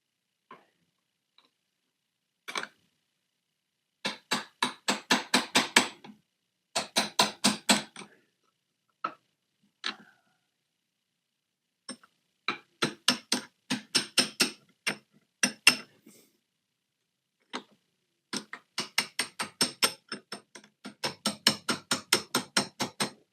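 Gentle, quick taps of a small hammer come in irregular bursts with pauses between them, light and close, each run holding several evenly spaced ticks.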